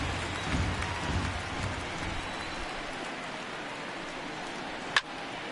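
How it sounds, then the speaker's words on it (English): Steady rain falls during a baseball game in MLB The Show 19, a soft, even hiss of drops that carries on throughout, with one sharp click near the end. "the conditions continue to be the same, rainy and soaking"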